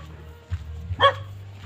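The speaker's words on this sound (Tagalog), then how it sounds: "Ang aso, matapang pa naman ang aso rito." A fierce dog gives a single short bark near the end, preceded by a couple of softer low thumps, against a quiet background hum.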